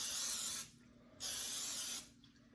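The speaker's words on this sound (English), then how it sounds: "I'm just going to coat it with a little bit of cooking spray" Cooking spray is applied to a baking pan for mac and cheese in two short hissing bursts, each under a second, separated by a brief pause in a quiet kitchen.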